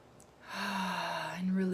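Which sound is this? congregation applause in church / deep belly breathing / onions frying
deep belly breathing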